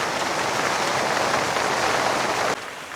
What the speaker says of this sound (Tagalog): Ang galing po ng ulan eh dati.